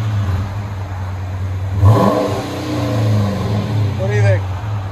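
A Chrysler 300S Sport with a 5.7 Hemi engine and a muffler-delete exhaust idles with a deep, steady rumble, swelling briefly in a couple of revs, close and loud, with some speech underneath.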